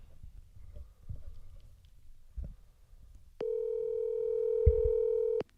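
A telephone call being placed shows up as one long steady electronic tone, loud and close, following a stretch of faint low thumps and handling noise.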